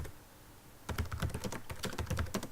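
After a quiet pause, a computer keyboard comes alive with quick, uneven bursts of close keystrokes as a file comment is typed, clicks clattering in short runs without speech.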